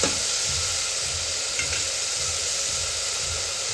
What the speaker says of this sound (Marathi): टोमॅटो पण छान परतून घ्यायचा.